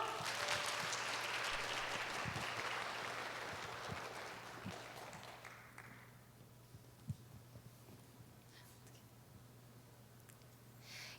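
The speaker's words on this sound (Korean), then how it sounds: "학생들을 큰 박수로 맞아주세요." Audience applause at a school graduation presentation in Daegu welcoming students onto the stage, a crowd clapping strongly at first before fading away to a low background hum with a few scattered sounds.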